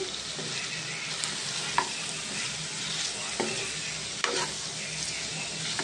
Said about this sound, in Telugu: కాకరకాయ ముక్కలు కూడా బాగా ఫ్రై అయినాయి కదండి